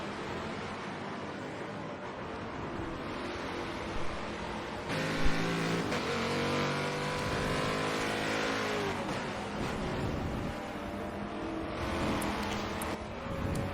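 Touring cars racing on a track in a racing video game, engines droning and rising in pitch as they accelerate, steady and moderately loud with no talk.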